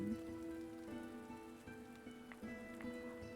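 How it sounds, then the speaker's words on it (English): Steady rain pours at night around a library in a video game, a soft, even patter with occasional louder drops, heard alone with no talk. "It's raining."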